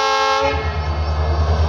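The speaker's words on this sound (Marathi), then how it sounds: "या ठिकाणी रेल्वे आलेली आहे रायमोमध्ये." A train's horn blares loud and sustained on the newly opened Ahmednagar–Beed rail line at Raimoha, with a rich harmonic chord at first and then a deep droning rumble that continues to the end.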